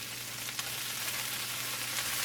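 Onion frying in a pan, with garlic cooking at fairly high heat, makes a soft, continuous sizzle with no one talking.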